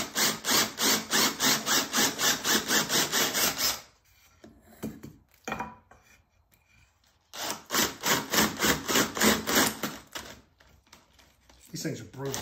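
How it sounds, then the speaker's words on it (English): A spade bit bores through a wooden board with a hand drill, a loud rough grinding rasp in two long bursts with a short quiet gap between them and a brief pause before the second. "let me drill a board out real fast"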